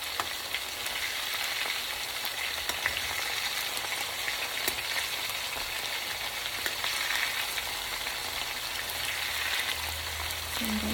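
Meatballs for Mexican albondigas soup fry in a pan with a dense, even sizzle and crackle, close and continuous, with occasional small pops and no talking.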